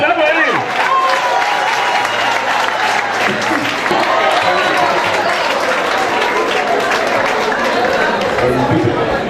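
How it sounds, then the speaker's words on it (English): A crowd claps loudly at a school valedictory service, dense continuous applause mixed with chatter and voices throughout. "Clap for him."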